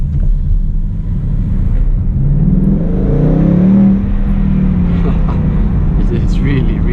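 A 2018 Ford Mustang GT V8 with manual gearbox and stock exhaust revs loudly, a deep, close rumbling roar that swells and holds, heard from inside the car with the windows partly down.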